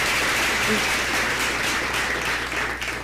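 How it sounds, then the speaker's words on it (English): Applause for three speakers at an online cooperative general assembly: a few seconds of steady, dense clapping at an even level that thins slightly toward the end. "Again, virtual applause to our three speakers."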